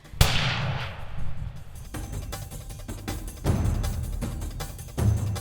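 A single sharp rifle shot cracks out during a hunt in South Africa, loud and close, followed by a long fading rumble and quieter rustling afterward.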